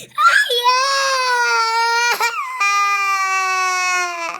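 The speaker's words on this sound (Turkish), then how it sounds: "niye ağlıyorsun?" A young boy cries loudly and close after losing a chess game, with long wailing sobs broken by a brief catch of breath midway, then another sustained wail.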